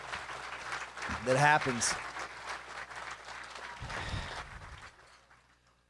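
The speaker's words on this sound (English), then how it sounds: "Let's give PRC of Rolla another round of applause just for the incredible work" At a 2016 PRC banquet in Rolla, a hall audience applauds with a dense, steady wash of clapping under a speaker's amplified voice. The applause swells briefly, then fades out toward the end.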